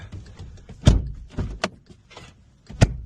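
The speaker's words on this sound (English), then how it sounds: "As you could hear, our steering lock." Several sharp mechanical clicks and clunks ring out from inside a 2012 Volkswagen GTI as its steering lock engages, separated by short pauses, with a faint low hum underneath.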